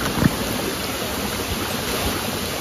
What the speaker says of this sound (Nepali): अहिले चाहिँ हामी खोलाको माथि छौँ